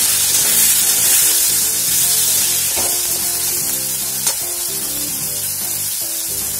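Prawns frying in a pan with salt and turmeric give off a loud, steady sizzle with soft stirring scrapes running through it, close up and continuous, and one sharper knock near the end.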